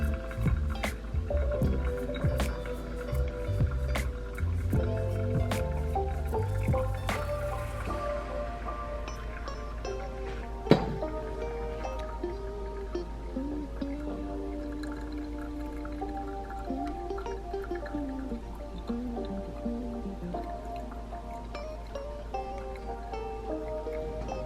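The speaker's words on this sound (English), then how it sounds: "now I'm just going to do a steady pour" Water poured in a steady stream over coffee grounds in a Chemex brewer, a continuous gentle liquid trickle and drip running under tonal background music, the stream thinning toward the end.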